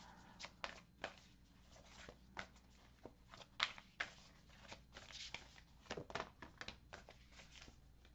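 A deck of oracle cards is shuffled by hand in steady, uneven riffling bursts, close and fairly quiet, with soft papery slaps and rustles running throughout.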